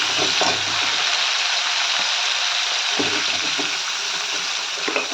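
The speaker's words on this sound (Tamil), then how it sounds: "தக்காளியும் போட்டு இதிலே நல்லா வதக்கிக்கலாம்" Onion and tomato sauté in a pan with a loud, steady hiss and crackle, punctuated by a few low thumps of stirring.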